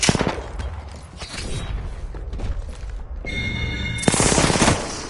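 Rapid bursts of automatic gunfire and booming shots from the video game Apex Legends, loud, close and nearly continuous, with a short lull before another dense volley.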